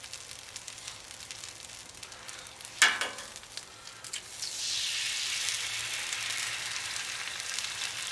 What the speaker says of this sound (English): And now I'm going to go ahead and make some eggs.